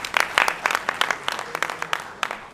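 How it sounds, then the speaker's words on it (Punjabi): An audience at a Pakistani stage drama claps in steady, lively applause, a dense crowd of hands sustained throughout without pause. "ਇੱਕ ਵਾਰੀ ਤਾੜੀਆਂ ਜੀ ਉਹਨਾਂ ਵਾਸਤੇ"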